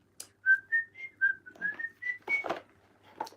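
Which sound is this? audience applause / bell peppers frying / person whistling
person whistling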